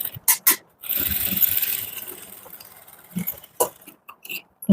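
A sewing machine stitches a topstitch along blouse fabric, running in a steady mechanical whir for about a second and a half, with shorter bursts and clicks of the mechanism before and after.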